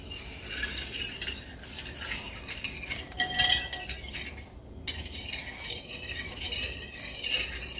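Cake batter for a toasted almond cream cake being mixed in a bowl, a steady scraping, clinking stir of utensil against bowl heard up close and alone for several seconds.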